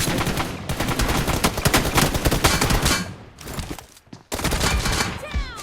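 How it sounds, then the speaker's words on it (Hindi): Loud, dense automatic gunfire fills a PUBG team deathmatch. It runs in sustained bursts with a brief lull near the four-second mark before the firing resumes. "वो गोलियाँ मारने लग जाता है मुझे"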